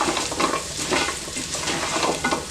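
Potatoes and vegetables for a dhaba-style baby corn veg biryani get stirred in a pan, with a steady sizzle of frying under repeated scraping and clinks of the spoon against the metal, close up and without talk.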